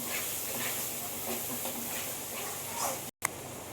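Ground tomato paste frying with spices in a pan makes a continuous dense hiss of sizzling oil, with a brief dropout near the end followed by a single sharp tap.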